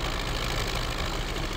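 An MTZ-82 tractor engine drones steadily under load while pulling a four-furrow plough through soft soil in Farming Simulator 19, a constant loud mid-pitched rumble with no pauses.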